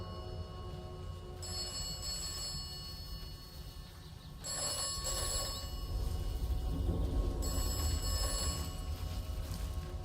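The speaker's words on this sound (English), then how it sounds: "Am I the only one that can hear the phone?" An old-style telephone rings in the video game Atomfall, repeated bright trilling bursts at a steady interval over a low ambient rumble, fairly quiet and without speech.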